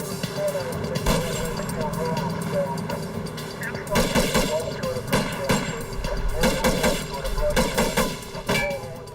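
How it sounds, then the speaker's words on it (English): Rifle gunshots from a roadside shootout between a van driver and police, a dense series of loud booming reports under continuous narration and background noise. "the driver pulls out a rifle and starts shooting"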